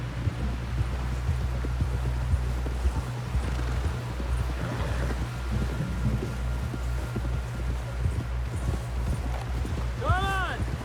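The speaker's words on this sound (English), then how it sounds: "Someone help John down off this horse." Horse hooves clip-clop in a steady rhythmic gait in Red Dead Redemption 2, over a low droning rumble, with rain-like patter and a brief whinny near the end.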